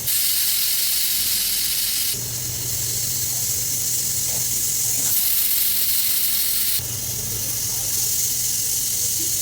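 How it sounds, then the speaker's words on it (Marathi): Pressure cooker on a gas flame cooking yellow moong dal, steadily hissing as steam vents in loud continuous bursts, with the whistle tone rising and dropping across several surges and no talk. "झालेल्या आहेत आपल्या तीन शिट्या"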